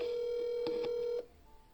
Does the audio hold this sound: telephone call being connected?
yes